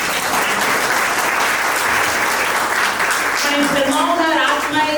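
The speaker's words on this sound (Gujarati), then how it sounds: "તાળી પાડો." A church congregation claps together in steady, dense applause that fills the whole stretch, with voices and tuneful sound rising near the end.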